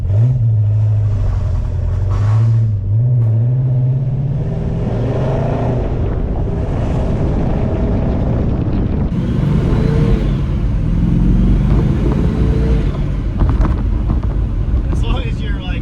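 A rebuilt 1961 Studebaker Hawk on a highway test drive, its engine droning and revving from inside the car over heavy wind and road noise, with a person talking over it.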